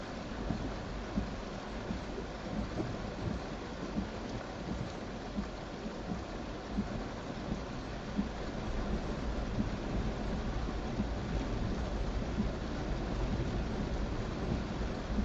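Heavy monsoon rain over a flooded city flyover in India, a dense continuous roar of rain and rushing water with low rumbling, steady and loud without talk.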